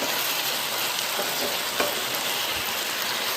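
Meat masala fries in a pan while being stirred, a steady, close crackling sizzle with a faint scrape of the spoon partway through.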